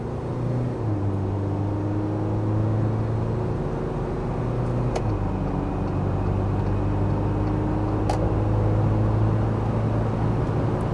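A JAC T9 pickup truck engine drones and whirs from inside the cabin, accelerating hard from 80 to 120 km/h in sport mode, its pitch climbing steadily, dropping briefly at a gear shift, then rising again.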